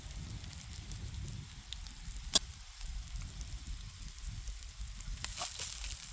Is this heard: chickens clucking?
no